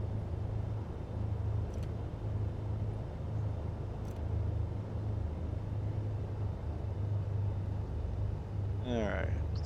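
A light aircraft's engine idles steadily at around 1,000 RPM while taxiing after leaving the runway, a continuous low droning hum running throughout with faint higher tones above it and no break in the sound.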